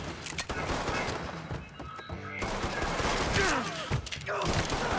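Video game gunfire in Mafia 3 fills the scene with dense, rapid bursts and heavy thuds, close and loud, with a voice briefly shouting in between.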